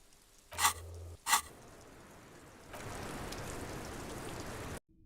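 Steady rain hisses as a broad, even wash, opening with two sharp bursts before settling into a louder, continuous patter that cuts off abruptly at the end.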